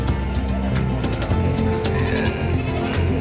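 Goats bleat repeatedly amid a noisy livestock market in San Carlos City, overlapping calls close by with a busy crowd-like background.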